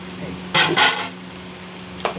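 Tamarind rice (pulihora) is stirred and mixed in a pan, giving two short scraping swishes close together, a pause, and one more brief scrape, with faint voices in the background.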